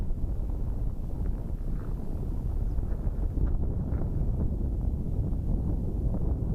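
Steady, low rumbling wind buffets the microphone throughout on the bare Col de la Seigne mountain pass, a constant outdoor roar with no voices.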